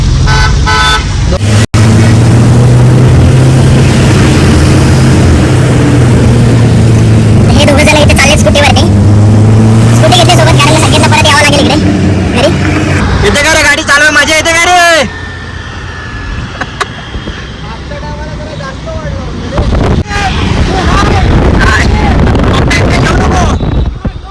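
A car being driven, engine and road rumble under wind buffeting, with short horn toots and people talking over it, the noise settling quieter in the final stretch.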